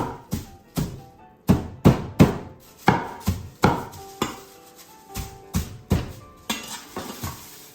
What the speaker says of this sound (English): you can use the end of a knife, this end. And you just want to smash them.